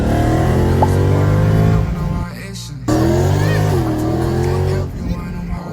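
A loud Mercedes wide-body Black Series sports car engine rumbles and revs nearby, its deep harmonic drone rising and falling, with a brief cut in the middle.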